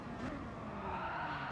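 A race car skids under locked brakes, a continuous broadband rush of tire scrub and engine noise sustained at steady loudness for a second and a half, with no voices.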